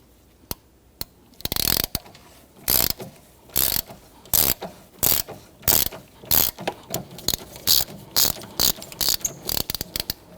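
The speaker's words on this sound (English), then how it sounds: "or you can use your ratchet like I'm doing." A hand ratchet loosens a bolt on a 2011-2015 Kia Sorento intake manifold, clicking in rapid bursts of strokes with short pauses between, close and clear.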